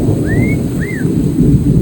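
A thunderstorm rumbles outdoors with heavy rain pouring steadily, a dense low roar throughout, while parrots nearby let out a couple of short rising whistles.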